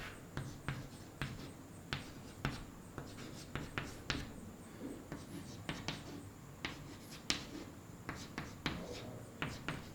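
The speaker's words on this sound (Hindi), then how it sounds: "एक बार तो मैंने लिख रहा हूं।" Chalk or marker writes on a board during a chemistry class, making quick tapping and scratching strokes that recur steadily and close by, with no talking over them.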